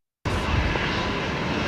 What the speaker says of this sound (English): love hearing Qantas 15 go right over our house